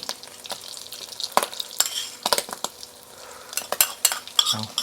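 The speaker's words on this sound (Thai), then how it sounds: "ใส่กุ้งลงไปเลยปันนี้เลยครับ ใส่กุ้งตีละตอนเล็กเดียว" Shrimp tossed into a hot pan and stir-fried, with sizzling broken up by sharp clanks and scrapes of a utensil against the pan, close and irregular.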